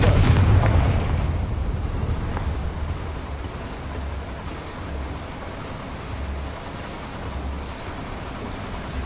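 Confringo fire spell blast in Hogwarts Legacy: a loud booming explosion at the start that trails into a long, dense rumbling roar, with no talk over it.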